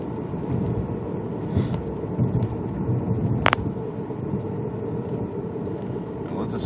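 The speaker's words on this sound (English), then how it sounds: "Let me just accelerate here for quarter throttle." A 2003 Volkswagen Jetta 1.8T turbo accelerates at quarter throttle, its steady engine drone and road rumble heard from inside the cabin, even and sustained throughout.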